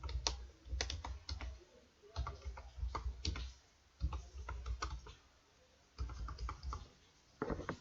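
Bursts of computer keyboard typing while a username is entered, rapid clicking keystrokes in short runs separated by brief pauses, close and fairly quiet with no talking.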